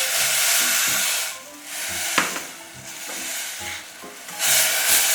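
A spoon or spatula stirring sugar into water heating in a pot, steady scraping and swishing strokes in a repeating rhythm with hissing, close and fairly loud with no talking.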